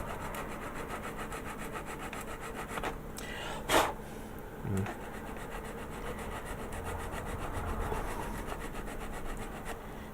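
Sandpaper of 100 grit rubs steadily against a plastic part of a Star Trek Voyager scale model, a continuous close rasp broken by a couple of brief knocks.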